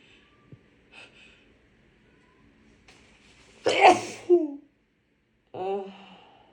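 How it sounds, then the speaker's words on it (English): A person with a cold lets out one sharp, explosive sneeze followed by a quick snort, then a sighing breath after a pause, all close and otherwise quiet. "think I have to sneeze."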